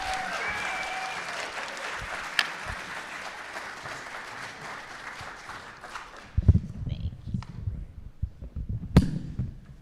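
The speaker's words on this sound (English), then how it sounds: "please give her a round of applause" Audience applause at a Black entrepreneurship conference, steady clapping filling the room, then thinning into scattered claps and thumps near the end.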